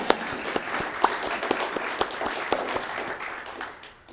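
Banquet audience at a distinguished alumni dinner giving a round of applause, moderate and somewhat sparse, with distinct individual claps standing out before it fades toward the end.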